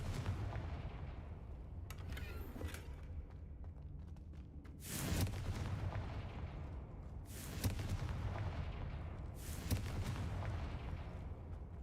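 Confringo spell explosions in Hogwarts Legacy, several sharp booming blasts a few seconds apart over a low rumbling background, each with a brief crackling decay.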